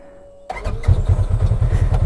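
Starter cranks and an engine catches with a sudden rise into a steady idle, loud and close, on a Polaris RZR side-by-side, with a faint hum before the start.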